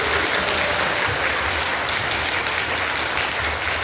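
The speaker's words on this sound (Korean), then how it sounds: "우리 아이를 축복하며 다시 한번 더 뜨겁게 박수 주십시오" Sustained, dense applause from a church congregation for a children's dance team at a Christmas service, steady and enveloping throughout with no talk over it.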